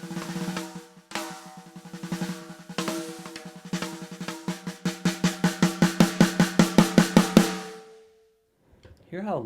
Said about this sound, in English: that's going to get you a really powerful, like, forte volume drum stroke